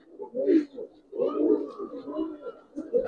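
Giribaz pigeons cooing in a loft, several soft, throaty coos in bursts separated by brief pauses, close and fairly quiet, with someone talking faintly in between.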